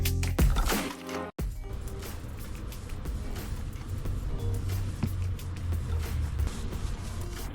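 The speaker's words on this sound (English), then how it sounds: "Then we carefully bring it over to this area and begin to roll off the excess paint" A paint roller soaked in boat paint rolls back and forth over a tray's ridged area to shed the excess, giving a wet, sticky squishing and sloshing texture that runs continuously after a brief clatter at the start.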